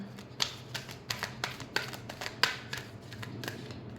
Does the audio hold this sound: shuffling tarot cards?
yes